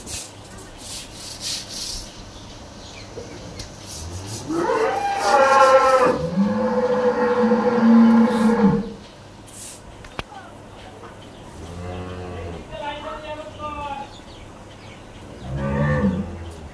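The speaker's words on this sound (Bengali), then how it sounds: "দেখেন এটা একটি 3 মাসের বকনা।" A three-month-old heifer calf on a dairy farm lets out two long, loud moos and a few shorter lowing calls, with quiet background noise between them.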